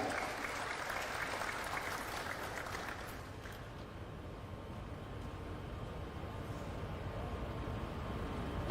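A ceremony audience applauds with moderate, continuous clapping that fades after a few seconds. A soft, steady room noise remains afterward.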